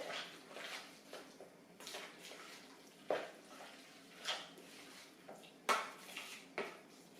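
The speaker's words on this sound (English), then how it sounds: "Just stir that up all good." Tuna salad stirred in a bowl, a spoon clinking and scraping against the dish in a run of soft, irregular strokes, with a few sharper knocks close by.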